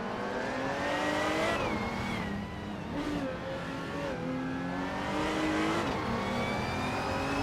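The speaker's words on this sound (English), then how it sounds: "NRS Savage has shot off the line to take the lead." Several race cars in a racing video game accelerate hard off the starting line, engines revving and rising in pitch together in a loud, continuous roar with gear shifts.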